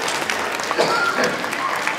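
Applause from a crowd at a community winter fun day, a steady wash of clapping lasting a couple of seconds, moderately loud and fairly close, with a hint of voices mixed in.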